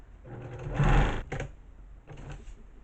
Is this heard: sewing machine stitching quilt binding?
yes